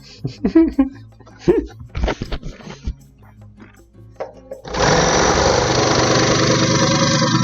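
A sewing machine switched to its fastest speed while stitching holiday napkins kicks in partway through and runs as a steady, loud, continuous mechanical whir after several seconds of people talking nearby.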